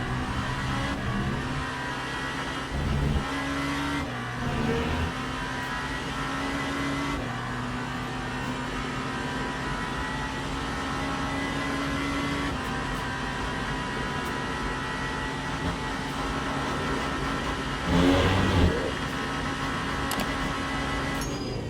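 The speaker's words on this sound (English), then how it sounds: "now I'll let you guys listen to that engine" The 3.2-liter twin-turbo V8 engine of a Genesis hypercar in the racing game Le Mans Ultimate drones and whines continuously, shifting pitch with occasional surges, sounding synthetic and steady without any voices.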